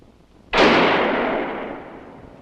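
A single loud gunshot cracks out at close range, then fades in a long, reverberant tail over about two seconds.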